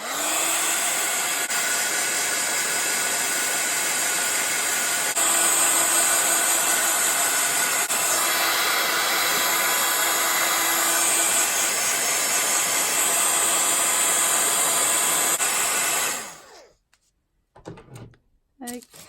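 A dryer blows steadily on handmade craft paper CD sleeves with a loud continuous whooshing drone for about sixteen seconds, then switches off, leaving a few faint knocks and handling sounds.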